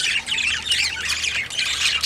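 Dense, continuous squawking and chattering from many birds in a breeding shed, close and steady, with no talk over it.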